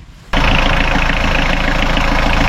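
Renault Kangoo 1.9 diesel engine cranks and catches after a quiet moment, then settles into a loud, steady, rattling idle close by.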